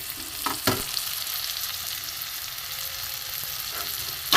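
Onion, tomato, chili powder, turmeric, cumin-coriander powder and salt frying in a pan for rui fish curry, a continuous close sizzle broken by a few sharp scraping stirs of a utensil.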